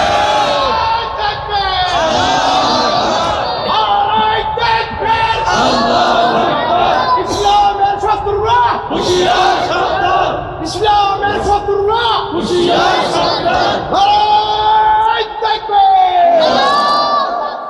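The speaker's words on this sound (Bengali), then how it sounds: "দু হাত তুলে তাকবীর দিয়ে আমার আল্লাহকে দেখায় দেন" A large crowd of worshippers at an Islamic sermon gathering shouts the takbir in unison, loud massed voices rising and falling in repeated waves of chanting, close and continuous for the whole stretch.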